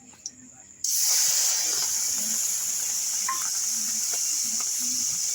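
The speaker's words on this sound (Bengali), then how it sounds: "এবার আমি চিংড়ি মাছটা ভেজে নিচ্ছি।" Shrimp hits hot white oil in a kadai and a loud, steady sizzling hiss starts abruptly, continuing evenly with faint scraping clicks underneath.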